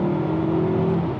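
A BMW E39 M5's 400-horsepower V8 holds a loud, steady engine drone after a downshift, sustained and close for about a second.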